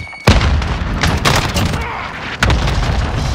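Cluster strike explosions in the Call of Duty: Modern Warfare video game land as loud, close booms with sharp onsets, one near the start and another later, over a dense rumbling battle din.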